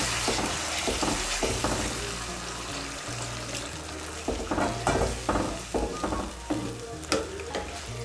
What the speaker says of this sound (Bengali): আমি এর মধ্যে 1 কাপ গরম জল দিচ্ছি।